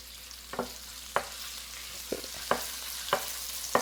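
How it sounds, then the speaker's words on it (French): A tablespoon of finely chopped ginger fries in oil in a wok over medium heat for mapo tofu, a low steady sizzle punctuated by about six distinct scrapes of a spatula stirring at an uneven pace. "on va mettre ça à feu moyen et on va mettre une cuillère à table de gingembre finement haché"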